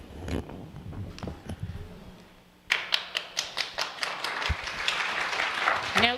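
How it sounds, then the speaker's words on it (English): At a school district community meeting, scattered claps and taps begin amid talk, then after a brief lull a burst of audience clapping starts with distinct individual claps that build into fuller applause. "No clapping, please."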